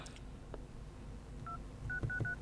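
Keypad tones on a Samsung Galaxy A27 as a code is dialed, four short beeps in quick succession after a single earlier tone, faint and clean with light taps.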